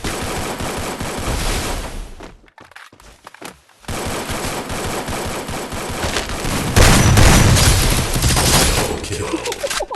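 Rapid bursts of gunfire in the video game Free Fire rattle loudly during a 4v4 match, with a short lull in the middle before the shooting resumes and voices talk over it.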